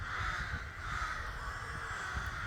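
Ravens cawing in their natural habitat, the calls faint and distant within a constant outdoor hiss.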